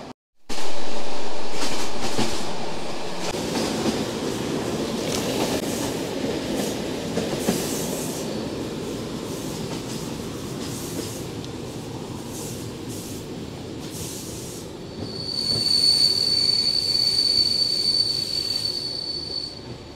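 A train in Bulgaria rolls loudly along the rails with a constant rumble, and a high, piercing wheel squeal rises over it toward the end.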